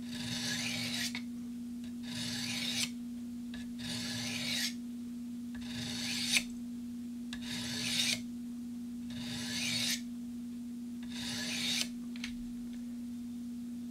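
A dull knife edge is sharpened in slow, regular rasping strokes, about seven long scraping passes with short pauses between them, close and clear over a steady low hum.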